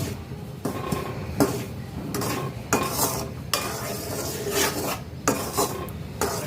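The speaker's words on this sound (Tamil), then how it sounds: "வறுத்துக்கலாம் அரிசி மாவு." Rice flour being dry-roasted and stirred in a pan before making coconut-stuffed kolukattai, a steady close scraping rasp with rhythmic strokes and no talking.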